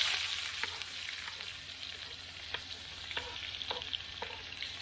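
Squash sizzling and frying in a pan with bacon fat for a homestead breakfast, a steady close crackle with occasional sharper pops and stirring clicks, no one talking.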